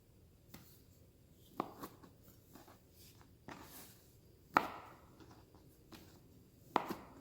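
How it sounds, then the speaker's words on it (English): A knife chopping garlic and fresh cilantro for guacamole, giving soft, sparse taps on a cutting board with a few sharper knocks spaced seconds apart, close and quiet, with no one speaking. "So I'm going to prepare these ingredients, get it all chopped up"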